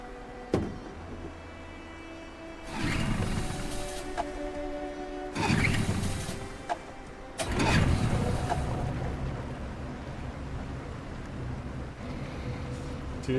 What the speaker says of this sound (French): On peut démarrer le moteur.